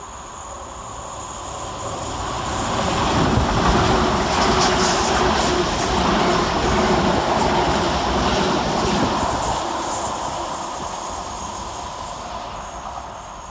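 London Northwestern class 350 electric units 350.106 and 350.113 passing through Smethwick Rolfe Street station, a rising rumble and clatter of wheels on rails that swells over several seconds, holds steadily, then fades, with no voices.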